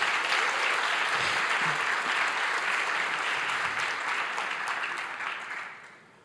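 Sustained applause from a church congregation, dense and steady clapping that fades out toward the end.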